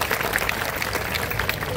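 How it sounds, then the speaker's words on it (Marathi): At a rally event, a crowd applauds to welcome a women's group, a dense patter of many hands clapping at mid distance for a short burst, with faint voices mixed in. "आपण टाळ्या वाजवून त्यांचं स्वागत करूया"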